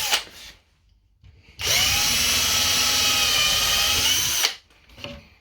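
A power drill with a 2.5mm bit bores a hole, a steady high whine held for about three seconds at close range, with brief handling noise before and after.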